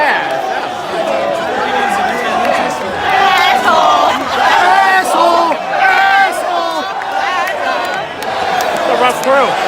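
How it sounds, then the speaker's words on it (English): Loud New York arena crowd at WrestleMania 35 shouting and chanting in waves, a dense roar of many voices with rising bursts throughout, close and continuous. "It's a different New York crowd."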